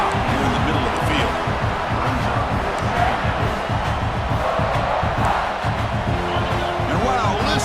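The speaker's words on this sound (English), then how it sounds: "listen to this crowd noise. This stadium is vibrating" A loud stadium crowd roaring continuously at a football game, a dense rumbling wall of voices and cheering that stays intense throughout.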